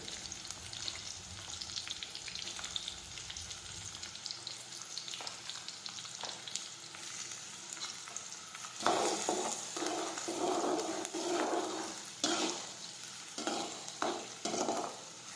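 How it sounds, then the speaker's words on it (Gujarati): Chopped onions sauté in a hot pan with a steady sizzle, turning louder and busier after the first several seconds as spoon strokes stir through them in bursts; no voices. "હવે થોડી વાર આપણે સાતળી દઈશું."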